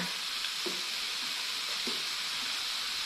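Salmon sizzling steadily on a tabletop grill brought from Thailand, a continuous soft frying hiss with a few faint clicks and stirring sounds, close and alone without talk.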